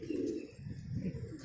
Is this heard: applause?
no